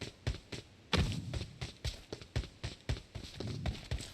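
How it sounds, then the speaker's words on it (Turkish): Footsteps in PUBG Mobile thud and clop in a steady, brisk rhythm, fairly close and prominent, with a heavier impact near the start. "Ayak sesi alıyorum."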